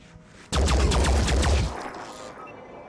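A gunshot in the video game Phoenix Point: a loud, sudden burst of gunfire with rapid rattling repeats over about a second, fading into a brief tail.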